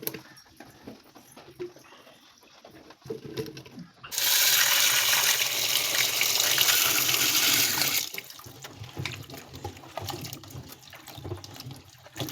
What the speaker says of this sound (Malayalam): പച്ചക്കറിയൊക്കെ കഴുകുവാണ്.